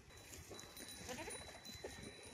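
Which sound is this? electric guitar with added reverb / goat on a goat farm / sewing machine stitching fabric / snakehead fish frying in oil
goat on a goat farm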